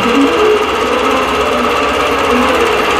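A quilting machine stitching out a Double Bubble design on Fading Geese, a loud, dense, rapid mechanical chatter running continuously and close, with no talking.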